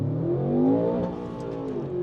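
A tuned SUV engine launches from about 1500 rpm and accelerates hard, its loud, close roar climbing in pitch, then easing back as the revs drop, with no voices.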